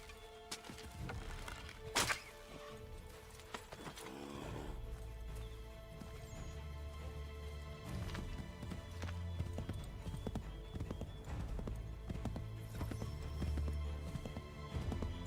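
Horse hooves clip-clopping at a steady run through a game world in Assassin's Creed III, a continuous rhythmic pounding with a sharp crash-like hit near the start, over a dense ambient and musical background.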